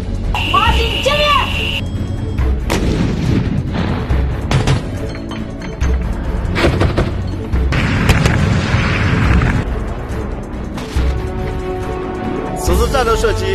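Guns on armored vehicles fire during a live-fire assessment, producing several heavy booms spread across the clip, with a buzzing tone near the start and end and a narrator speaking over them.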